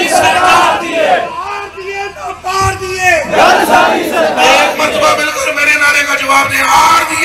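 A large crowd at a religious gathering honouring the Prophet Muhammad roars a loud chanted response to a slogan, several swelling shouted waves of massed voices filling the whole stretch.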